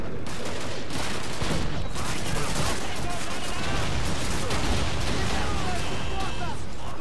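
Dense, continuous gunfire and blasts in Call of Duty 2 crackle nonstop, loud and chaotic, with rapid bursts layered over a heavy rumble of explosions.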